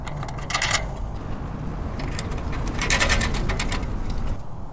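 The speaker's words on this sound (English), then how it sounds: "I'm just using a 3/8 ratchet with a short extension and a half inch socket to tighten them up" A 3/8-inch ratchet with a short extension and half-inch socket tightening half-inch flange nuts on carriage bolts while relocating a backup camera on a 5th-gen Toyota 4Runner; bursts of quick, close clicking ratchet strokes come in two spells over steady background noise.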